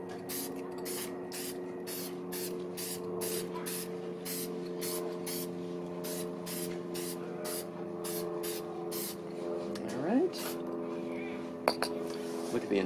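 Krylon spray sealant hisses onto stamped cards in a rapid run of short, evenly spaced bursts over a low steady hum, close and fairly loud.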